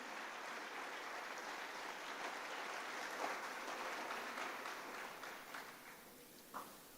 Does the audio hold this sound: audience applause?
yes